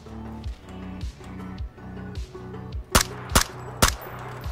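Three sharp, loud gunshots from PUBG (PlayerUnknown's Battlegrounds) ring out close together near the end, each with a quick decay, over a steady pulsing engine-like game drone and low rumble.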